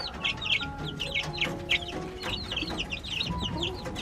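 Chickens cluck busily while pecking at black soldier fly larvae on a home farm, with a steady stream of overlapping short calls from several birds close by and no talking.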